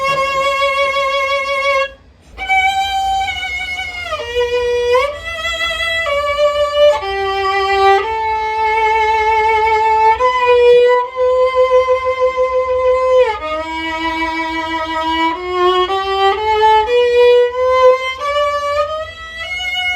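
A bowed string instrument plays a slow melody with wrist vibrato, sustained notes wavering steadily in pitch, close and loud with no talking.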